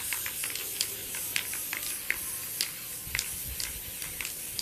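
Super Grip non-slip spray hissing from an aerosol can onto a latch hook rug, a steady close hiss with small spitting bursts throughout, no talking.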